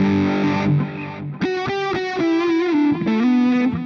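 Electric guitar run through a phaser or chorus placed ahead of distortion in the Bias FX amp app on iPad/iPhone, a swirling, saturated riff of sustained chords and single notes, played loud and close with no talking.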